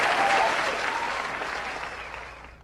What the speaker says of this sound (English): That sounds like canned applause for sure.